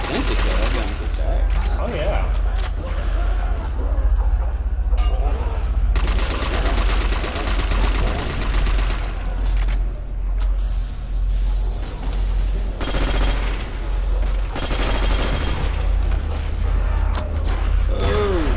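Loud, dense gunfire from the Call of Duty zombies map Nacht der Untoten, with rapid automatic bursts and booming shots packed together across the whole stretch, continuous and close.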